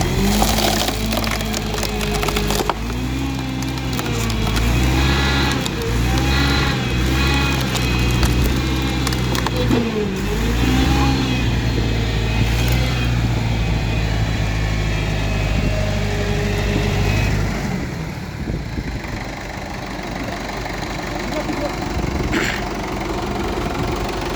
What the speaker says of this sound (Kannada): ಟ್ರ್ಯಾಕ್ಟರ್ ಫೈವ್ ಫಾರ್ಟಿ ಫೈವ್ ಬಾಳಿ ಮಿಷಿನ್ ಅಂತಾರೆ ವುಡ್ ಕಟ್ಟರ್ ಮಿಷಿನ್ ಅಂತಾರೆ